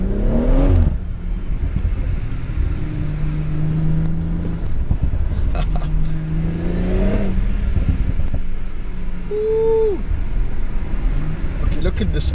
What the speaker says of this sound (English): So I'm just driving at 40 kilometers, chilling, and then suddenly... Oh, that was 40 to 100.